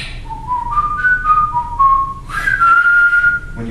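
A person whistles a wandering melody alone, close and clear, with sustained tones that rise and fall in pitch and briefly pause before a longer high held passage.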